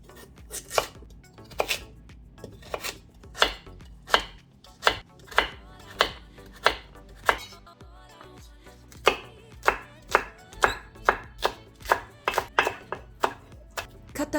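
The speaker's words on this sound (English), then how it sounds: "Cut daikon and green onion first." A knife chops daikon radish and green onion on a board, a long series of crisp, fairly loud close strokes, at first irregular and then in quicker rhythmic runs, with no talking.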